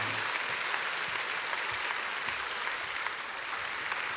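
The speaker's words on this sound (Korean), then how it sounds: "우리 박수로 축복하겠습니다" A church congregation applauds a guest brought to the front, a steady, even wash of many hands clapping at a fairly low level, continuous and without voices over it.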